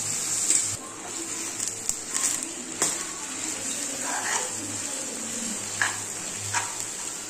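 Masala-coated mutton is stirred in hot oil in a pan, a faint steady sizzle with occasional scrapes and clinks of the spoon, heard close and low in level.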